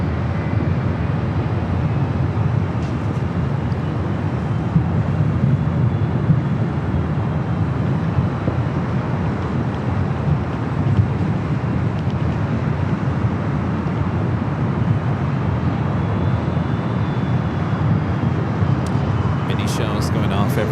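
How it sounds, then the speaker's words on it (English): A Singapore Airlines Airbus A350 lands at LAX as flight 38, giving a steady, loud, broadband jet roar that holds evenly throughout. "Next arrival is Singapore, the A350, Flight 38."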